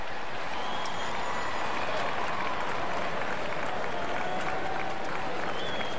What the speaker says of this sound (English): You can hear a smattering of applause